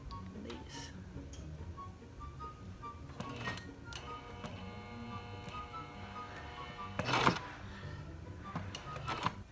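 A sewing machine stitching pieces of a button-up shirt together runs in a steady, even stretch partway through, quiet and close, with a few separate clicks and handling noises around it.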